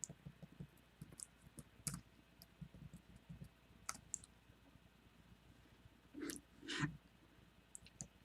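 Typing on a computer keyboard while entering code, heard as sparse, faint clicks of single keys at an irregular pace, with a couple of louder presses near the end.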